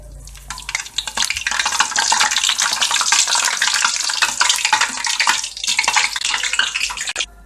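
Puri bubbling and frying in hot oil for a street-side masala puri, a steady dense sizzle with scraping stir noises, close and loud throughout with no talking.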